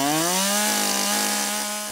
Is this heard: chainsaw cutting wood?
yes